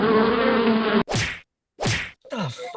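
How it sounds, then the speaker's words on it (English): Bees buzz loudly and close for about a second in a steady, dense drone, then give way to a few sharp swishing swats with brief silences between them. "Fucking bees."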